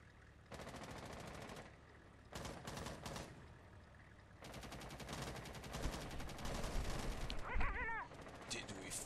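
Rapid gunfire from the video game Rainbow Six Siege, with bursts of automatic shots that come and go across the clip alongside game sounds and players talking over voice chat.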